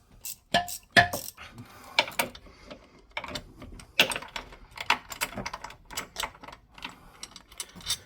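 A 1/4-inch ratchet working a bolt loose on the twin-rotor supercharger of a Sea-Doo Speedster 200, heard as bursts of sharp, close clicking with brief pauses between runs, and no voices.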